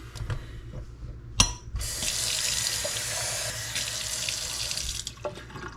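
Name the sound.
tap water filling a glass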